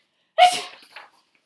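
A human voice imitates a fit of sneezing in one sharp, close burst that trails off into a few softer breathy puffs.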